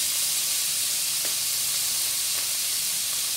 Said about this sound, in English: we're stirring until brown this pork tenderloin